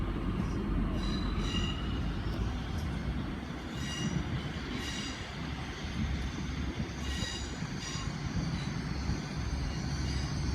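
A train rolls through Exeter St David's station on a Sunday evening, heading out toward Exmouth, with a steady loud rumble of wheels, intermittent squeals and clatter running continuously throughout.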